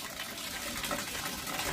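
Water gushes steadily from a tap in a bathroom to fill a bath, a continuous hissing rush at moderate, even loudness throughout.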